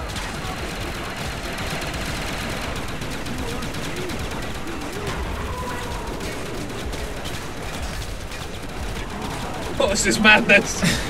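Guns fire at zombies in Call of Duty Black Ops on the Der Riese map, a steady rattle of rapid shots running under excited player chatter, with a louder burst of gunfire near the end.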